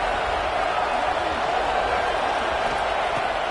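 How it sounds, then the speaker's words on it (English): Stadium crowd roar in EA College Football 26 on a 3rd-down play, a steady, loud wash of crowd noise that holds for the whole stretch without easing. "Here comes the noise as this crowd doing everything they can to help the defense bear down on 3rd down"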